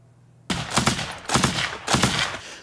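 Rapid bursts of gunfire and a shell explosion in footage from the Ukrainian battlefield, loud and close, arriving in three dense volleys after a quiet start.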